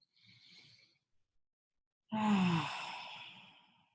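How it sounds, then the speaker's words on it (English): A deep breath during a calm guided meditation: a soft, faint inhale followed after a pause by a long, louder exhaled sigh that gradually fades, alone and close. "we take a deep breath."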